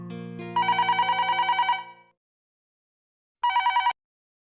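A telephone bell rings in rapid trilling bursts, one long ring followed by a pause and a shorter second ring, clear and alone with no talk.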